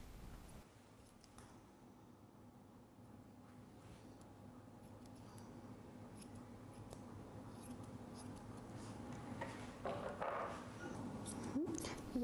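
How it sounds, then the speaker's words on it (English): Curved grooming scissors trim the hock fur on a Golden Retriever's lifted hind leg during show grooming, giving faint repeated snips beneath steady background noise across the whole stretch. "Starting with the hocks, I do them with curved scissors"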